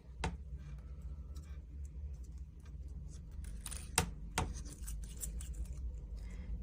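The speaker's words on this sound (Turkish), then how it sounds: "Şöyle ölçerek 7'şer santimlik teller keseceğim." Scissors snip through floral wire for a crochet amigurumi reindeer, a few close, sharp clicks and cuts standing out over low, quiet room noise.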